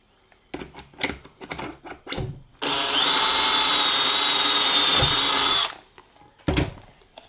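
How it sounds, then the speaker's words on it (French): A power drill whines loudly and steadily for a few seconds, drilling into an existing machined slot for a Lamello Clamex joint fitting, bracketed by handling knocks and clatter before and after. "On prend une perceuse."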